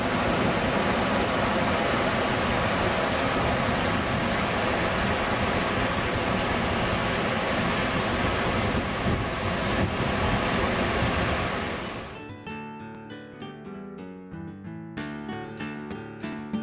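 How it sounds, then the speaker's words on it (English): Heavy rain pouring down outdoors on a wet painting spot in the open, a dense steady wash of noise for most of the stretch before it cuts away abruptly to quieter tonal sound near the end. "I've actually been sitting here painting in the rains. It's pouring down."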